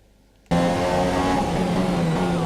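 An F1 2017 race car engine in the video game, on the Melbourne circuit during the first qualifying lap, bursts in suddenly after a quiet start, then keeps up a loud, sustained high-pitched whine as the car accelerates.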